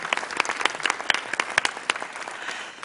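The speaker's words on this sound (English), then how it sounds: "let's give our panelists a round of applause" Audience applause for the panelists at a 2014 Ontario election debate on the financial services sector, a steady patter of many hands clapping with sharper individual claps standing out, fading slightly toward the end.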